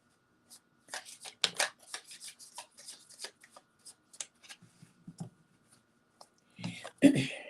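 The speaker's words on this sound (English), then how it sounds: "Okay, one more shuffle." Tarot cards being shuffled by hand, a run of quick papery riffles and slaps at close range, ending in a louder burst of rustling and a thump.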